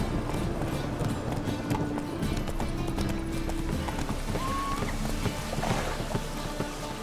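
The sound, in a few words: horse galloping in video game The Witcher 3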